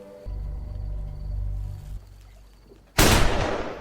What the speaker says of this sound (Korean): 갑자기 들려온 총소리